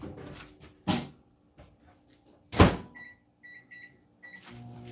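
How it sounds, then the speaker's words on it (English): Corn on the cob goes into a microwave: two sharp door thumps, followed by a few short electronic keypad beeps and the low hum of the oven starting. "I'm gonna put these other ones in the microwave."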